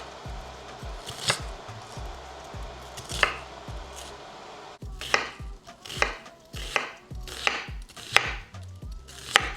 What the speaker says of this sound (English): Slicing the rest of our onions.